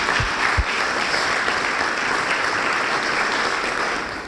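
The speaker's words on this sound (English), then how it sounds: "let's give them a round of applause." At an event welcome, a roomful of people applauds the event's title sponsors with steady, broad clapping that fades slightly at the end.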